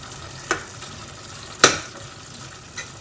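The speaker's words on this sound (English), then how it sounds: "So I'm just letting it simmer for around say 5 to 10 minutes till the onions become like soft" Beef and onions simmer and fry in a pan with a low, even sizzle, punctuated by three sharp taps or scrapes of a utensil, the middle one loudest, with no voices.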